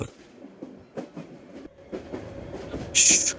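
A train in the Bangladesh rail game Train Simulator Bangladesh rumbles steadily along with rhythmic clicking, and a brief shrill high tone cuts in near the end.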